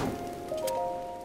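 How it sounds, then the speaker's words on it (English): Steady patter of rain in the Zelda: Breath of the Wild video game, a soft continuous wash with faint tonal game sounds layered on top, lasting only a moment. "It's still raining?"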